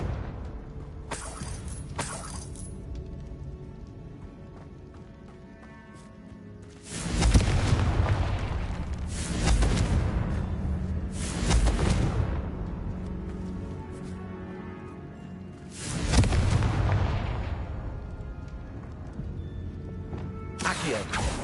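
Confringo fire spells burst in Hogwarts Legacy gameplay: several heavy booming blasts land a few seconds apart, each a sudden loud crack that rolls off into a rumbling tail, separated by quieter ambient game sound.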